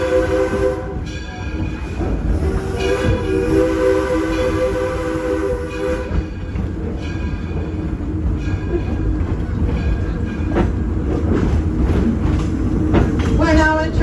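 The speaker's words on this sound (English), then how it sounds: "listen to the sounds that a steam locomotive makes" The Edison steam locomotive pulls a passenger train through a wildlife preserve, its continuous rumbling and rolling clatter joined by whistle blasts, with people talking faintly under the steady train noise.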